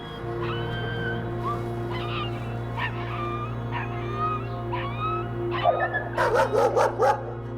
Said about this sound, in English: There's a wee puppy there. I think they're all fighting over a puppy.